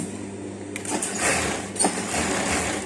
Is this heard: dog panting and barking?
no